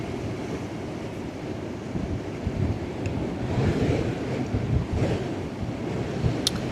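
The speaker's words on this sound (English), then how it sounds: "I think nobody wants to deal with the wind" Strong wind buffeting the microphone on the Westerschelde shore in the Netherlands, a constant low rumbling roar with gusting surges and faint surf behind it, no talking.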